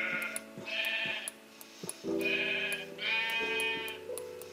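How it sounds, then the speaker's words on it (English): Sheep in the video game Minecraft bleat several times in short wavering calls, some overlapping, clear and fairly close over quiet background game sounds, with no talk. "Another sheep."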